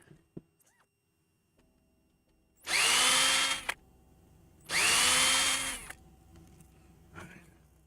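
A power drill whirs in two bursts of about a second each on a guitar tremolo stabilizer install, close and loud, with quiet pauses around them.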